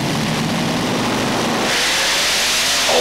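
Pulling tractor at the 1996 European Tractor Pulling event in Bernay, France, revving hard at the start: a loud, sustained engine roar that builds and climbs in pitch, with no talking.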